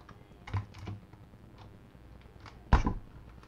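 Scattered keystrokes on a computer keyboard while working in the Windows command prompt, a few soft taps and a louder cluster near the end, close and alone in a quiet room.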